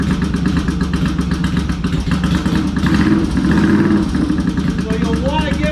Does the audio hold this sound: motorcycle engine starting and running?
yes